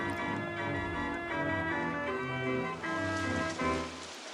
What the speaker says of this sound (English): Rain time, here we go.